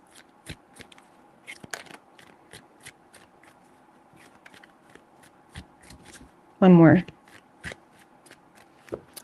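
Tarot cards being shuffled by hand in repeated quick riffling bursts, with one loud close shuffle near the end, while a person speaks briefly.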